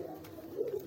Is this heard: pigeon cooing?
yes